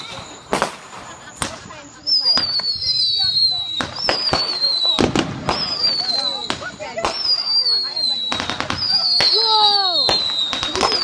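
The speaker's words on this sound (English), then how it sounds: "Oh, explosions! More explosions!" Fourth of July fireworks burst in loud, sharp cracks and booms, several close blasts with whistling rockets and crackling tails in quick succession, while people call out excitedly in between.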